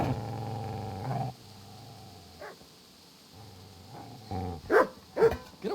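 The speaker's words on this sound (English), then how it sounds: "Get away, you mutt!" Dog barking in the video game Kingdom Come: Deliverance, a few sharp, loud barks in the last two seconds after quieter growly sounds, set over a low game ambience.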